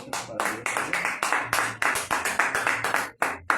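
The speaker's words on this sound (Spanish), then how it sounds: "Un aplauso a Dios" A church congregation claps in a steady, rhythmic beat, with sharp, evenly spaced hand claps filling the few seconds.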